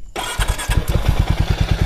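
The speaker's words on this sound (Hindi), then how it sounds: "जैसे ही आप बाइक जो है वो स्टार्ट करोगे" A Hero Mavrick 440 motorcycle engine cranks and fires up after a brief silence, then settles into a loud, close, steady thumping idle with no talk.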